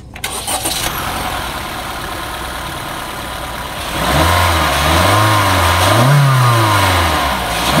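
Honda BR-V with a 1.5 L L15ZF engine cranking and firing up, a starter whir and clatter leading into a loud revving engine note that swells and then settles toward idle, close and alone.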